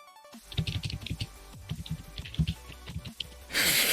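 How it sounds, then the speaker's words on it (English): Rapid, uneven bursts of computer keyboard typing, keys clacking close by in quick clusters, ending in a sudden rush of noise. "Just hear you smashing your keyboard."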